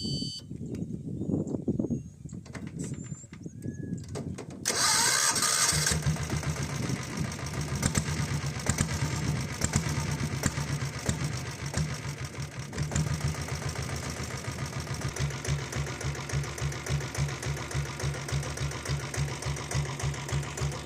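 A 7.5 HP self-start diesel Royal Enfield Bullet cranks and fires, then settles into a steady, rhythmic thumping idle that carries on evenly and fairly close.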